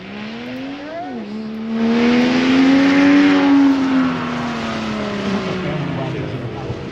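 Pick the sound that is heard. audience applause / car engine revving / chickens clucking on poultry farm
car engine revving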